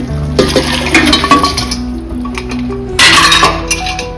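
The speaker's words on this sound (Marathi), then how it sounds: "आता आपल्याला यात मटण टाकून घेऊ. मटण टाकून घेते शिजवून." Mutton pieces go into a pan of roasted masala and released oil, bringing metallic clinks and two loud bursts of sizzling and clatter close by.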